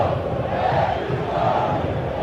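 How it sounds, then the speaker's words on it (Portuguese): Football supporters at a 2007 Brazilian league match between Internacional and Corinthians chant together in the stadium, a massed rhythmic roar of voices rising and falling in loud waves. "A torcida grita Edilson, fazendo referência ao árbitro"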